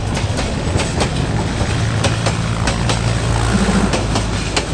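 An intercity train passes close by on a rail line between Satkhamair and Sreepur, with steady rumbling wheels and a rhythmic clickety-clack of rail joints throughout, loud and continuous.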